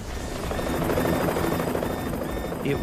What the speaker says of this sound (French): Un des hélicoptères s'écrase alors qu'il survole la résidence